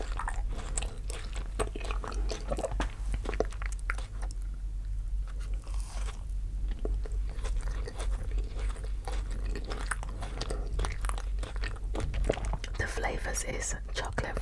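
Chocolate fudge cake with strawberries chewed close to the microphone, steady moist munching and soft crunching under a low constant hum, with whispered talk mixed in.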